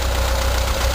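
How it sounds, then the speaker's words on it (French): A 1984 Volkswagen Vanagon engine idles steadily, a continuous low rumble with a faint knocking texture and constant level throughout, heard alone without talk. "c'est ça qu'est le moteur. Il sonne comme un Volkswagen."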